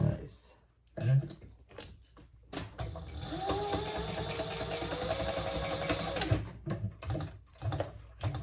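A sewing machine stitches a basting seam to hold crossbody bag pieces in place, running as a steady mechanical whir for several seconds between short bursts of handling noise and pauses.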